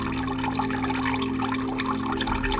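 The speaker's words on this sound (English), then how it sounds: "an aquarium where a small waterfall flows from a solid artificial rock cliff" A small waterfall pours from an artificial rock cliff into a diorama aquarium, a steady close rush and splash of falling water with a constant low hum underneath.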